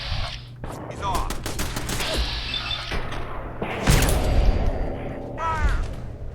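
Rapid bursts of automated turret gunfire in the video game Fallout 4, loud and close, with sharp repeated shots, metallic clatter and crashing impacts over several seconds.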